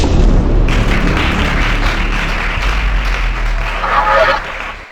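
A church congregation bursts into loud, sustained clapping during a worship service, a dense wash of hand claps filling the space before tapering off near the end.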